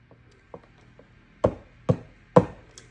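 Two loaf pans filled with pumpkin bread dough are tapped on a kitchen counter, giving three firm, evenly spaced knocks after a few lighter taps, close and clear with no talking.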